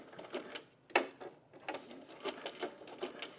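A cover stitch sewing machine hems a bralette in quick, uneven bursts of mechanical chatter, with a sharp clack near the start and stop-start runs of needle rattle at close range, fairly quiet overall.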